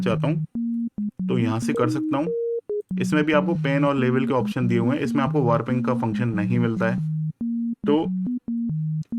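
Low bass notes from an Xfer Serum synthesizer, pitched an octave down, play as short steady tones in stepping patterns at the start and end, separated by a stretch of someone talking.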